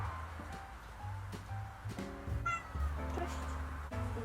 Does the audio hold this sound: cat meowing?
yes